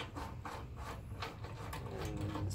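Metal bolt on the spring mount of a Dobsonian telescope being unscrewed, giving a steady run of small ratcheting, grinding mechanical clicks throughout, close by.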